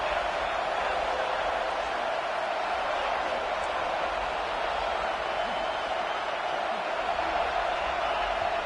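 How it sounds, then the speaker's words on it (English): A stadium crowd cheers in a college football video game, a dense, steady roar that holds at one loud level throughout, with no break or rise. "It's early, but this crowd is fired up. Listen to this noise here."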